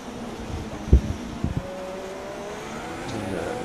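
A Haas F1 race car engine in the F1 2016 video game, at the Bahrain circuit, with a steady engine drone, rising whine and a few low thumps, lasting under four seconds without talk.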